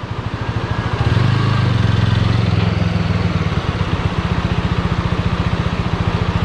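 Motorcycle engine idling on an uphill road, a steady low, fast pulsing throb that swells briefly and then settles, close and loud throughout.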